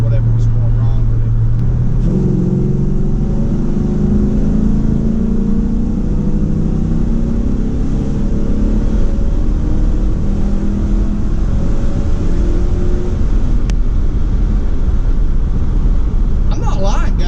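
An LS-swapped Chevrolet C10 pickup truck accelerates hard, its V8 engine rising in pitch through gears, loud and steady, with someone talking over it.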